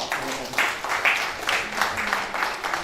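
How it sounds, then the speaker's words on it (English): An audience at a sepsis awareness talk and book launch gives a round of applause, moderately loud clapping that swells in soft pulses and continues evenly throughout. "So a big round of applause."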